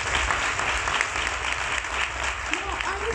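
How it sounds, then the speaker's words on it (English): A crowd of newly arrived Bachelor of Education students at a university orientation gives a dense, sustained round of applause that fills a large hall from start to finish. "Give yourself a round of applause."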